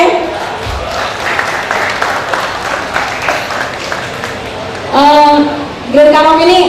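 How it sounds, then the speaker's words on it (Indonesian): Stand-up comedy crowd in Lampung applauds for Grand Karaoke with a steady, moderate clatter lasting several seconds, then voices break in loudly near the end. "Tepuk tangan buat Grand Karaoke"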